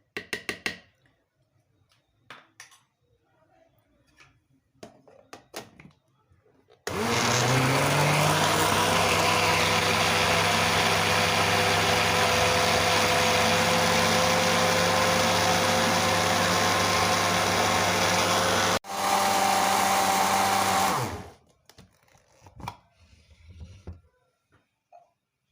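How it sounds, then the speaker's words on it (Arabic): An electric blender whirs loudly and steadily for about fourteen seconds as it mixes carrot cake batter with water and vanilla in a home kitchen. It cuts out briefly, runs again for a couple of seconds, then stops, leaving faint kitchen noises. "وراح أضربهم على الخلاط"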